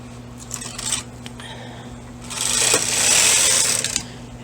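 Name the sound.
knitting machine carriage knitting a row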